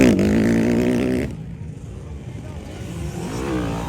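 Motocross bikes, a 250 and an 85cc, racing in a ladies' final heat at Valencia City, with a close engine revving high and then fading, and another bike's drone rising at the end; someone talks over it.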